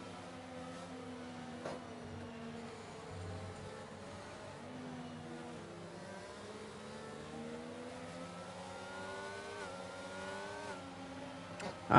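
Several race cars in an F1 racing game accelerate away from the start at the Bahrain Grand Prix, a layered, rising engine whine sweeping upward in pitch through gear changes, moderately distant and steady.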